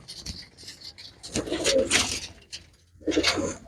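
Pigeons coo at a pigeon sale, with two bursts of throaty cooing and fluttering, the first louder and longer and the second shorter after a lull, close by.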